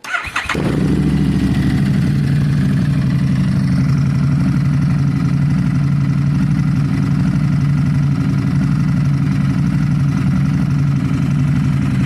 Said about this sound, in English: I'm going to fire this bike up and let you guys hear it. Okay, listen to this noise.